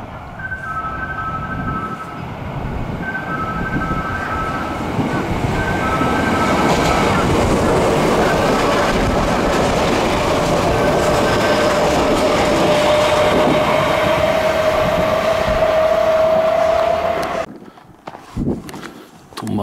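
A Kintetsu Minami Osaka Line train passes through a station at speed. It builds into a loud, sustained rumble with wheel clatter and a rising whine, then cuts off abruptly. A platform announcement chime and voice sound near the start.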